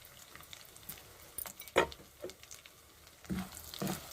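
Four dried red chillies dropped into hot oil for an amla tomato pickle, crackling in short sizzling bursts and pops close by against a quiet background.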